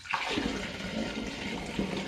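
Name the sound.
pouring warm apple tea into cider brew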